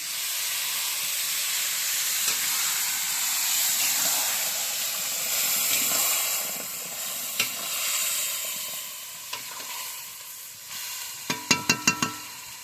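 Marinated chicken hits hot oil seasoned with whole cumin seeds, producing a steady, moderately loud sizzle and hiss that runs throughout, with a few sharp utensil clinks near the end.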